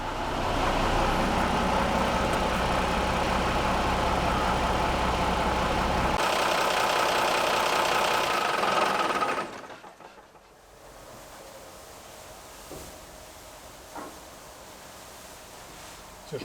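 A former fire truck, being converted into an expedition camper, has its engine running loud and steady to build brake air pressure, then drops to a quieter idle with faint clicks.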